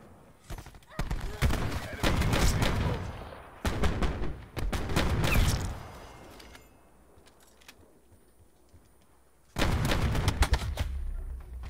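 Gunfire in the Black Ops 4 video game, with clusters of loud shots over about six seconds, a quieter lull, then another heavy burst near the end.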